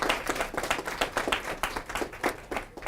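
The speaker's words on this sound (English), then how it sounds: "if we could give them a huge round of applause" An audience claps for two doctors at a Black History Month event, a few seconds of loose, uneven hand claps with distinct individual strikes, moderately close and steady, tapering slightly at the end.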